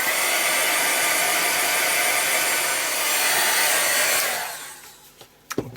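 A hair dryer blows close and loud for about four seconds to dry paint on a mixed media art journal page, then cuts off, followed by a few small handling knocks.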